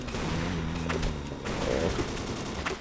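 Gunfire crackles in a chaotic zombie-mode match of the video game Ace of Spades, with several rapid shots and bursts over a dense, noisy game background and a low hum, and no speech.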